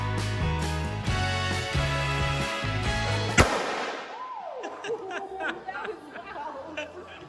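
A rhythmic music loop plays, then gunpowder explodes in a game of tejo in Colombia with a sharp loud bang, followed by crackling pops and scattered laughter and chatter.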